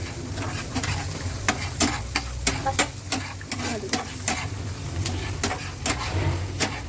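Onion, capsicum and garlic fry in hot oil, a steady close sizzle broken by a regular series of sharp spoon scrapes and taps against the pan, roughly two per second.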